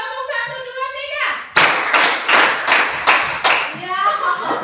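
Children in a classroom clap in a counted rhythm, about five sharp, loud claps in quick succession after an adult's spoken cue, with voices before and after.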